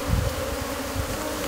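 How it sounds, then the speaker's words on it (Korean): Honeybees buzzing in a swarm on a mountain farm, a dense continuous hum, moderately close and fairly soft, with no talk. "분봉할 때 벌들은 온순해져서 잘 쏘지 않는다"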